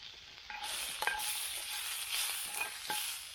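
Onion, garlic and par-cooked green beans sizzle in a pan at a camp cooking setup, a steady close hiss with a few stirring scrapes and pops.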